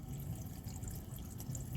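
Water draining down into a dry well at a French drain in Orlando, Florida: faint continuous trickling and splashing with light drips, no voices.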